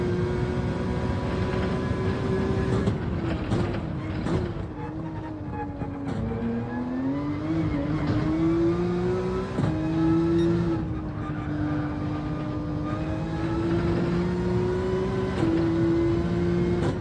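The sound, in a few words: race car engine and tires at Laguna Seca in the video game Gran Turismo 7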